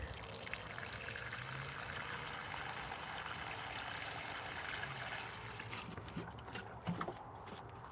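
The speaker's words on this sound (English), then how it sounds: "I'm going to put some water in that hole too." Water pours steadily into a planting hole for a tomato plant in a garden, a continuous soft rushing and trickling with a few small splashes toward the end.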